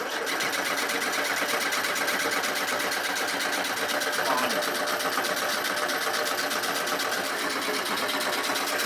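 An 80s barn-find Alpine Gordini turbo hot hatch engine cranks over with wet spark plugs, a steady fast mechanical chatter that holds throughout at moderate loudness, with a person talking faintly.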